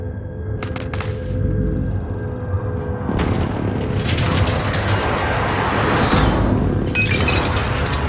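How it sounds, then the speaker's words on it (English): A precision airstrike hits in a video game, a heavy explosion with a deep rumbling boom, shattering debris and a long roaring tail, followed by a sharp rush of noise at the end. "Precision airstrike, take cover!"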